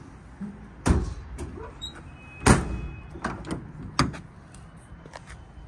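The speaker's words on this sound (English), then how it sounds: "All the drawers slide and latch as they should." Tool storage drawers on a 2016 Ford F-550 mechanics truck with a Stellar crane body slide and latch, giving a series of sharp metallic clacks and thuds at irregular intervals, up close with no talk.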